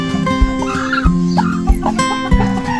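A Chinese Silkie chicken clucks loudly and close by in a short run of repeated low clucks, with a few sharper calls mixed in.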